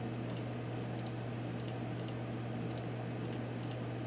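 Faint, evenly spaced clicks from a computer mouse and keyboard tick along steadily over a constant low electrical hum, with no one talking.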